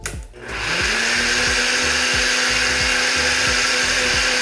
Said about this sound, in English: Next thing we do is we blend.